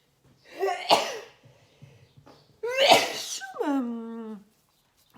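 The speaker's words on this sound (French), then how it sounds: "Désolée, j'ai toussé dans mon coude." A woman's sharp cough into her elbow, two close explosive bursts about two seconds apart, the second trailing off into a brief voiced throat sound.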